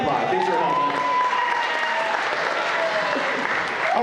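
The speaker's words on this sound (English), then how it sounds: "Let's give Rudy a big round of applause" Audience applause for a volunteer helper at COSI's Holiday Lights Show, a full, steady round of clapping from a crowd, with whoops and voices mixed in over it.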